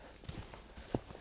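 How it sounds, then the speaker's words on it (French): A horse walks slowly, its hooves giving a few soft, irregular clip-clops close by on the ground, faint and without other sounds. "je vais bouger un petit peu avec mon cheval"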